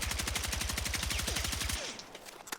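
A carbine fires a fast, steady full-auto burst on a shooting range in Battlefield 6, about twenty close, punchy shots in even rhythm, followed by a short tail of mechanical clinks and ringing.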